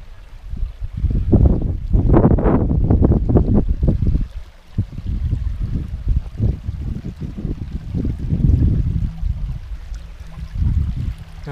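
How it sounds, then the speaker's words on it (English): A stream trickles and splashes steadily on Kinder Scout, with gusts of wind buffeting the microphone early on; no voices. "to hear the trickle of the water is, some might call it, therapeutic."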